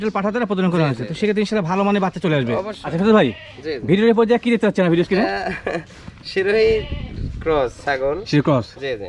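Goats bleat repeatedly and loudly at a farm raising high-quality cross-breed goats, a string of close, wavering cries filling the whole stretch.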